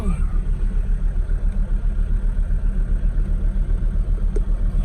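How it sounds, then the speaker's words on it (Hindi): Mercedes W123 engine running under throttle with a pulsing, rhythmic drone and low rumble, close by, as a voice speaks briefly over it. "Raju, throttle please."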